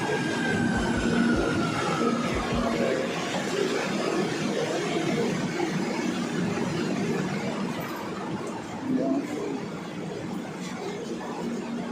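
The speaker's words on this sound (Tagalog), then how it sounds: "So, dito na yung train." Passenger train rolling past on a holiday with an empty station, a steady broad rumble of wheels and carriages lasting throughout, fairly close and loud, with faint squeal-like tones in the background.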